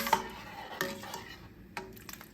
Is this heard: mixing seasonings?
yes